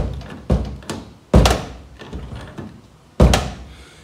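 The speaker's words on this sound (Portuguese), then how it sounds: "a porta dá uma caidinha e ele precisa dar aquela batida e aquela levantada para fechar" A sagging car door being pushed up and closed: several heavy, close thuds of the door hitting shut, spaced irregularly with quieter knocks between, and no talk over them.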